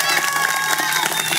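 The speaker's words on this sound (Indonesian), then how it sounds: "Tepuk tangan untuk Indonesia." A crowd at an Indonesian religious sermon gathering cheers and claps in a brief, loud burst of mixed voices and applause.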